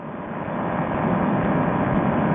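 A steady, droning propeller engine hums from a paramotor trike cruising slowly through the air at about 20 mph. The noise is loud, constant and close, with no talk over it.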